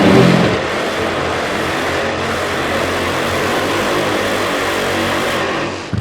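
Top Fuel twin-engine drag racing motorcycle thumping in the right lane, a loud sustained engine roar heard from a distance across the strip, steady with a slight swell at the start.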